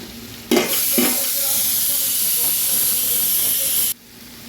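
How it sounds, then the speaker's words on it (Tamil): Chopped cabbage, beans and carrot hit a pan of sautéed ginger and garlic, bursting into a loud, steady sizzle and hiss that holds for several seconds, with a few stirring knocks near the start, then drops abruptly. "இஞ்சி பூண்டு நல்லா வதங்கிட்டு இப்போ முட்டைகோஸ் பீன்ஸ் கேரட் எல்லாம் சேர்த்துருக்காங்க"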